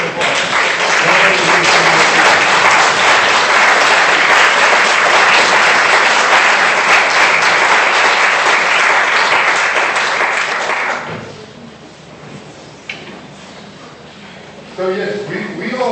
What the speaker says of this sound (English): you guys deserve a big hand of applause